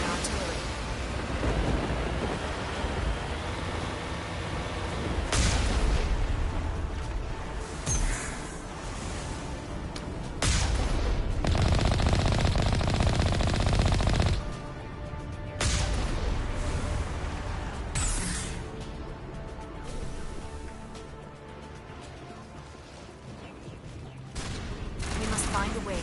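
Booming artillery fire and rattling gunfire in a Mass Effect battle, with heavy bursts and roaring blasts around 5, 10 to 14 and 17 seconds over a rushing, windy backdrop.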